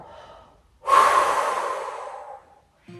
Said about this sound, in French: on continue à bien respirer profondément